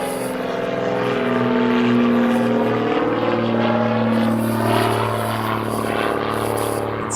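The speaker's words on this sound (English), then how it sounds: "you can just hear the aeroplanes going overhead" A propeller aeroplane on shark patrol drones overhead along a coastline, its steady engine hum and rising, falling tones swelling and easing as it passes, loud and close with no voices.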